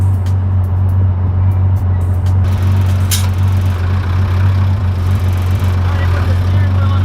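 A 1973 air-cooled Porsche 911 rumbles steadily through traffic, its low engine drone loud and constant throughout, with a brief passing swell of road noise midway.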